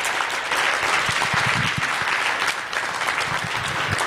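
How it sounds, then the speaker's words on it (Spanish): A church congregation at a Spanish-language Sunday service applauds loudly, a thick continuous roar of many hands clapping together that fills the room without a break. "Vamos a dar un aplauso, por favor."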